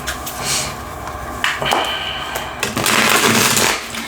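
Thick cards being shuffled in repeated riffling bursts, with crisp papery clatter and snapping, close and fairly loud.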